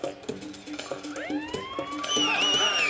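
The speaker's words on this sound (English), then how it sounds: "Gonna start with a siren" Siren sound effect played from a touch screen in a game, rising and wavering electronic wails that start thin and swell louder toward the end, mixed with short clicks and taps.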